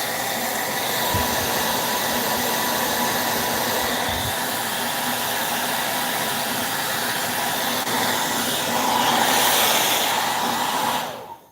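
A hair dryer blows steadily to dry fresh chalk paint on a metal mailbox, a loud continuous whooshing hiss that runs unbroken before cutting off abruptly at the end.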